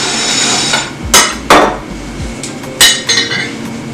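A plate is handled on a kitchen counter while rice is served for ayamase, with several sharp clinks and knocks, two close together early and another pair later, over quiet room noise.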